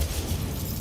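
An Incendio fire spell erupts in the Hogwarts Legacy video game as a loud, low, rumbling burst of flame, sustained and dense for its short length.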